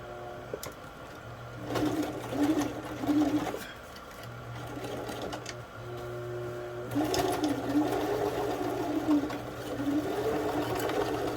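A sewing machine stitches through thick layers of a handmade bag in several bursts, pausing briefly between runs with a steady mechanical hum and rhythmic clatter, fairly close and alone without talk.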